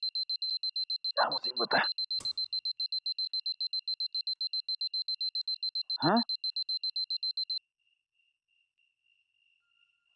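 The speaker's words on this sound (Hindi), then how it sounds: "अलार्म बज गया क्या?" Early-morning alarm clock ringing in a steady rapid beeping pattern for several seconds, then stopping; someone speaks briefly over it and another voice comes in later.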